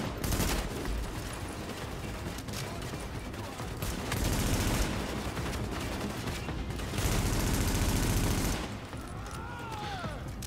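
Gunfire in Tom Clancy's The Division, loud sustained bursts of automatic shooting in several long volleys with brief pauses between them, close and dense.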